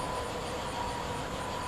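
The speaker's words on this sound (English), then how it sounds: "There's that train." A steady low rumble of a train rolling past, constant and fairly distant, with no voices.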